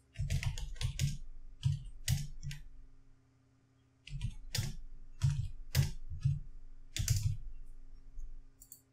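Someone types a postal address on a computer keyboard while setting up a Facebook page, with quick bursts of crisp key clicks, a brief pause in the middle, then a second run of clicking, close and clear.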